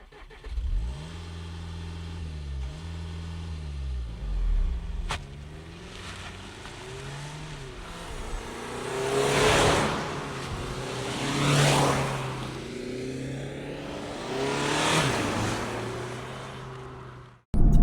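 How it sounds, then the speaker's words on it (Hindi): A modified Skoda Kodiaq diesel accelerates through traffic, its exhaust droning and rising in repeated revving surges as it pulls through the gears, heard from fairly close with steady road noise beneath. "और इसका जो एग्जॉस्ट है, ये गाड़ी तो भाग रही है यार"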